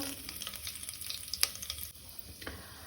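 Shahi cumin and whole spices sizzle in hot oil for a Goan prawn biryani, making a crackling hiss with brief stirring clicks and a couple of sharper pops, and no voices.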